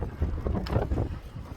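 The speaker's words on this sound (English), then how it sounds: "A bit windy there, like." Wind buffets the microphone while cycling over a bridge by a tobacco warehouse on a canal-side ride, a low, uneven rumbling roar with gusty swells across the whole short stretch.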